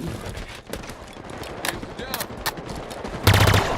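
Gunfire in a Halo Team Slayer multiplayer match: rapid bursts of automatic weapon fire and scattered shots, with an announcer voice and game sounds mixed in, and a louder burst near the end.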